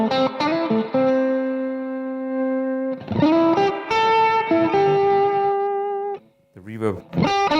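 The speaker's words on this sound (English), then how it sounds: "when I put that boost pedal in" Electric guitar played clean and then with a boost pedal engaged through a tube amp with reverb, sustained distorted chords and single notes ringing loud and close, briefly broken near the end by a short plucked passage.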